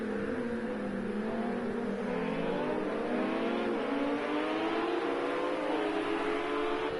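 Ferrari and Lamborghini race cars circle the Nürburgring GP circuit, several engines droning and rising in overlapping pitch sweeps, a steady loud roar for the whole stretch.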